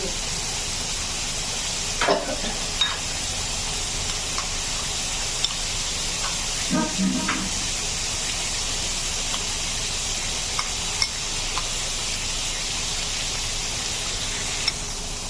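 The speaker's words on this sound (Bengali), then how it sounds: "আমার পেঁয়াজটা প্রায় ভাজা ভাজা হয়ে আসছে" Onions frying in oil in a pan for a katla fish curry give a steady hiss that runs throughout, with a few brief clinks and stirring knocks.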